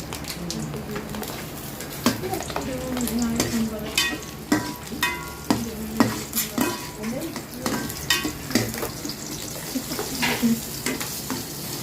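Garlic sautés in a pan for ginataang gabi, a steady close sizzle broken by repeated clinks and scrapes of a spatula stirring against the metal.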